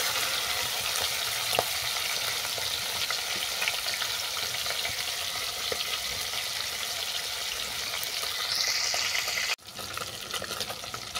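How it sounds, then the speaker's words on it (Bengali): Many hilsa fish pieces frying together in oil make a dense, constant sizzle close by, with faint utensil clicks and a brief break in the sound near the end. "আমি অনেকগুলোই মাছ নিয়েছি, একসঙ্গে ভেজে নিচ্ছি।"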